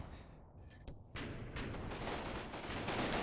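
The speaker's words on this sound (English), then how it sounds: "our infantry is starting to get some shots off at each other" Rifle and machine-gun fire between infantry squads in the WWII strategy game Combat Mission Final Blitzkrieg, a quiet start giving way to a dense, steady fusillade of overlapping shots.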